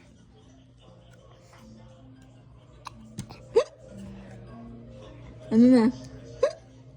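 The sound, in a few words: baby hiccupping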